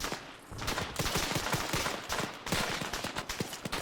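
Dense bursts of rapid gunfire fill a war video game battle, with a sharper blast near the middle that fits a grenade going off, all loud and continuous without any talk.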